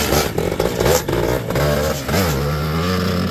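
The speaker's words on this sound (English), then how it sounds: "Let's take a ride on the bike." A vintage 1970s two-stroke enduro motorcycle engine warms up with close, loud revving, its pitch rising and falling through a few blips with mechanical clatter, no talk.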